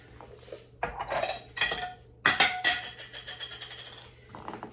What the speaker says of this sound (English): Okay, so I'm going to give this a good stir.